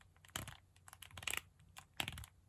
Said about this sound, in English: I don't know if you can hear that kind of clicking